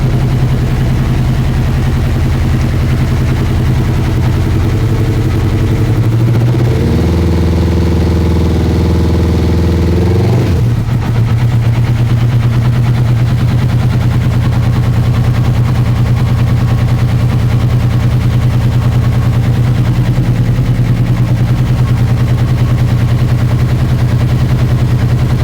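A Honda CB1000R motorcycle engine runs with its two right cylinders not firing, a loud, rough, uneven idle that sustains throughout, with a shift in pitch and a brief surge near the middle, heard alone at close range.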